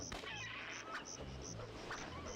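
Game birds squawk and honk in repeated short bursts, several calls spread across a couple of seconds over a busy background of game noise, moderately loud and without speech.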